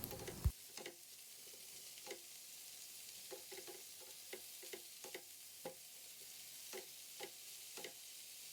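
Purslane and zucchini sautéing in a pan for a yogurt purslane salad, heard as a quiet steady sizzle with scattered clicks and taps of stirring at irregular intervals, no voices.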